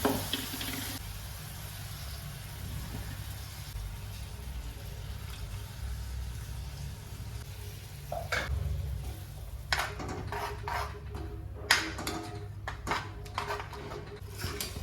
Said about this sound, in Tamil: இந்த மிக்ஸி ஜாரை நல்லா அலசி இதில் ஊற்றிக்கலாம்.